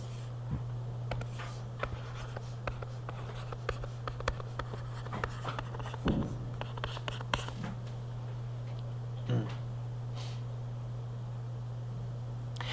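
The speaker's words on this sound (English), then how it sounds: "So over here, I'm going to write" Handwriting an equation on paper, close scratchy pen strokes in short irregular bursts and taps over a steady low electrical hum.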